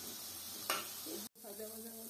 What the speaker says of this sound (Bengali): হালকা একটু তেল দিল প্রথমে, তারপর সবুজ বরবটিগুলোকে একটু ভেজে নিচ্ছে